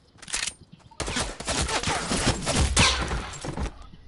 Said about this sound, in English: All those shots were headshots.